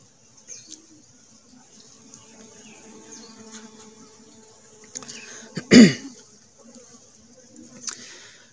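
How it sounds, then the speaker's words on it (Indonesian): Honeybees buzz faintly around a hanging bamboo-frame hive in the mid-morning, a thin, steady drone of individual insects coming and going, broken by a brief louder rustle or thump near the middle. "untuk lebah ini masih aktif banget ya, yaitu contoh seperti ini keluar masuk ya untuk bervegetasi"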